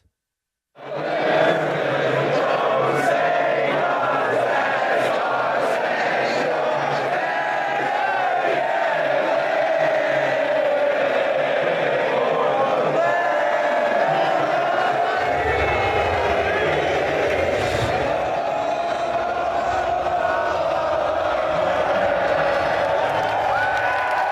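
A huge esports arena crowd at the MLG Major roars and cheers continuously, loud and sustained for the whole stretch, with whoops and shouts rising out of the din.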